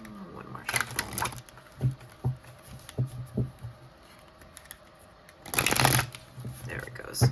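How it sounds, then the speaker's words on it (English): A deck of tarot cards being shuffled in two crisp riffling bursts, with soft taps and handling sounds in between, close and fairly quiet. "One more shuffle."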